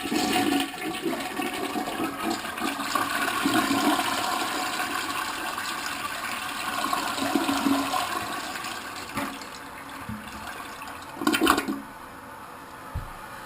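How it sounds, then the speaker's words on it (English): A Mansfield toilet flushes as a test after a tank leak repair, with a steady loud rush of water draining and refilling that lasts several seconds and then tapers off, with no talking. "We'll do a test flush."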